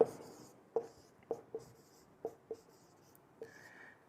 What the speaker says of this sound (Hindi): लिख लो एक बार और